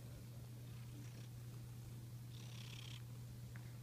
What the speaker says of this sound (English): What are you doing, kitty cat?